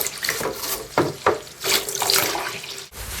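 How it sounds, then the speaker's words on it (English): Water runs steadily from a sink tap as a Sega Mega CD Model 2 part is washed under it, splashing and shifting in tone while the part moves through the stream. "So just have a go at cleaning it up in the sink."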